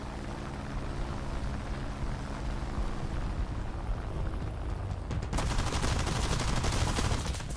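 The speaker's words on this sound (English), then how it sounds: "Someone else shooting at me." Another tank's guns open up in the War Thunder video game, a fast burst of shots in the last couple of seconds over a steady engine rumble.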